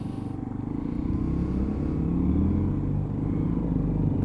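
Lexmoto Assault 125cc motorcycle riding along, its steady low engine drone and rumble continuous and fairly loud throughout, rising slightly in the middle.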